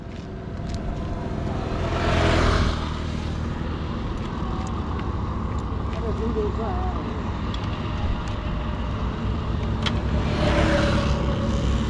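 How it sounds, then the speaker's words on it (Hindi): A car engine runs steadily with a continuous low rumble and occasional swells as it revs, close by and loud, while people talk over it outdoors. "हाँ जाओ गाड़ी चालू कर लो, गाड़ी चालू करो"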